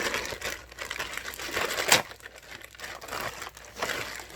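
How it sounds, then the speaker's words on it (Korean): Plastic wrapping being torn and crinkled off a selfie stick package, a steady close rustle with a sharper rip near the middle. "일단 비닐을 뜯어줍니다"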